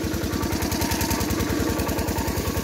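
A parked tractor engine idles steadily at a farm field, a close, even low chugging with a regular rapid pulse throughout.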